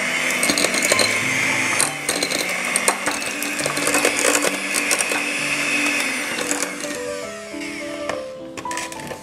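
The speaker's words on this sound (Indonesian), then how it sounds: "Pertama-tama kita akan mixer dulu mentega dan margarinnya. Saya akan menggunakan kecepatan rendah dulu." An electric hand mixer whirs steadily at low speed, beating butter and margarine in a bowl, with rattling, clicking beaters knocking against the bowl throughout.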